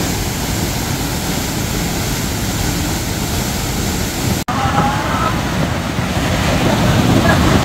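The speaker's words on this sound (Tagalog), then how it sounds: "nanapod ko diri sa Dahican Beach Resort. I'm surfing ko today with Dandan." Ocean surf at Dahican Beach in Mati City, a continuous loud roar of breaking waves mixed with wind buffeting close by, with one short dropout partway through.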